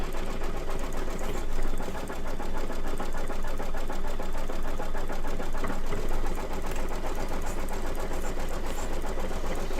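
An embroidery machine stitches a hexagon zipper bag with a steady, fast mechanical chatter that runs evenly and fairly loud throughout, with no talking.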